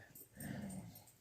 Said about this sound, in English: I'm afraid my dogs are about to start fighting again.